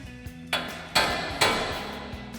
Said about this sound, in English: We're gonna loosen it with a hammer. Smack a hammer right here.